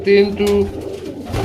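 Pigeons coo up close in a short, steady run of low, throaty calls, loud and clear with a little background noise.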